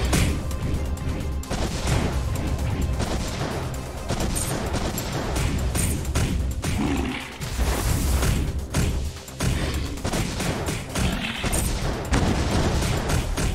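Constant gunfire and heavy explosions from the M.A.S.S Builder video game, a Sengoku Astray Red Frame mech build in close combat, with loud dense bursts and crashes that continue unbroken throughout.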